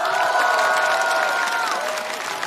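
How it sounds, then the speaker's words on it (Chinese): A studio audience at a televised stand-up comedy show claps and cheers to welcome comedy club owners, a loud, dense burst of applause with excited shouts carried over it and held steady until it eases slightly near the end. "掌声欢迎"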